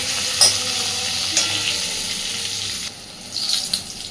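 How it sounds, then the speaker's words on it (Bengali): Pointed gourd (potol) pieces fry in oil with turmeric, a bright steady sizzle with a couple of sharp spatula taps, dropping quieter near the end before a brief clatter of stirring. "বেশ সুন্দরভাবে ভাজতে হবে পটলটা।"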